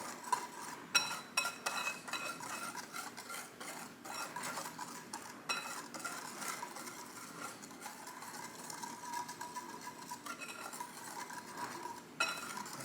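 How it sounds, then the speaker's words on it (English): A spoon stirring a gluten-free pizza dough mixture in a bowl, with a quick, irregular run of scraping and clinking strokes, close and fairly quiet, with no one talking. "make sure that we stir it up really well, mix it up really well"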